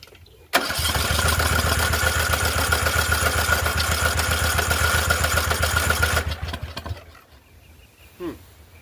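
A Poulan 12538 38-inch riding mower engine cranks and catches abruptly, runs loudly and steadily for several seconds nearby, then cuts off and winds down to near silence.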